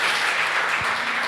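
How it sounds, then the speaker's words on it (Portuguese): Church congregation clapping and applauding together: a brief, moderately loud burst of dense applause with one low thump partway through. "Aplauda ao Senhor, igreja."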